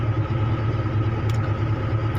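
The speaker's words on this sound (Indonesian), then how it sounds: "Jadi suara saya agak terganggu sekarang karena suara mesinnya lumayan besar" An excavator engine running steadily, a loud, continuous low rumble and drone that fills the whole stretch with no talking.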